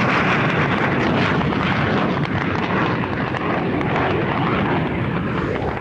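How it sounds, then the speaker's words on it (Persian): Iraqi military jet aircraft in flight, a loud continuous roaring rush of engine noise with wind buffeting, steady throughout and no voices. "یک هواپیمای مزدور عراقی رو مشاهده میکنید"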